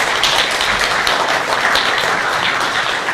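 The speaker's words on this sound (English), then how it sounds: "Please, big round of applause." Audience applause for a panel of speakers at an investigative reporting event, a steady, loud wash of clapping hands filling the room without a break.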